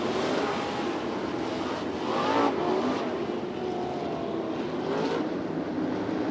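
Sprint race cars accelerate on a restart, their engines rising and falling in waves that swell past at mid distance over a steady roar of the field.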